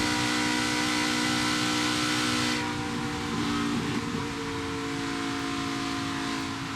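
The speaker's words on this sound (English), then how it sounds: "we're able to listen to the work that LeVar and Isabella are doing as far as throttle control around this racetrack" ARCA Menards Series race cars running at Michigan International Speedway, a continuous droning engine roar with steady tonal whine that shifts slightly as drivers work the throttle, heard from a distance without talk.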